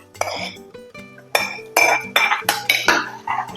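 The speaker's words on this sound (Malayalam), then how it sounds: "അതിനകത്തോട്ട് നമുക്കിത് വാട്ടിയ വെണ്ടയ്ക്ക ഇടാം." Spoon and pot clink and clatter as sautéed okra goes into a boiling Kerala sambar, a run of sharp metallic knocks close by, with faint tonal sounds behind.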